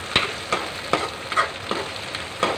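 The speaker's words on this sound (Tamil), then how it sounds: "பூண்டு ஓரளவுக்கு நல்ல பொன்னிறமாக வர மாதிரி எண்ணெயிலே நல்லா வேகட்டும்" Garlic and slit green chilies fry in hot oil for a fish kulambu, a steady close sizzle broken by regular stirring scrapes about every half second.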